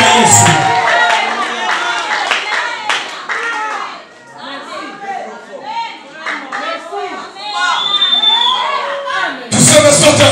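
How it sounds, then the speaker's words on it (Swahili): A church congregation claps and cheers for Jesus during a sermon, rhythmic hand clapping mixed with excited shouts and children's voices, dropping briefly midway before a loud burst of clapping returns at the end. "Rusha makofi kwa Yesu."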